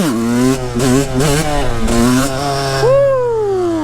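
A two-stroke supermoto motorcycle revs hard through second gear for a wheelie, its buzzy engine climbing in pitch several times with quick shifts, then dropping sharply as the throttle closes, loud and close.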